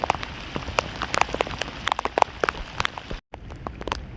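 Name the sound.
heavy rain falling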